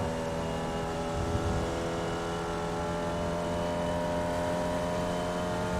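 Formula Vee race car engine in the iRacing sim at Summit Point Raceway, a steady droning buzz with a continuous engine tone and no talk.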